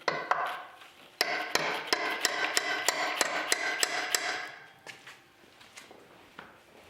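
Sharp hammer blows ring out on metal in a steady run of about a dozen evenly spaced strikes, then a few scattered taps, close by with no talking, during a Corvette water pump swap onto LS truck accessories.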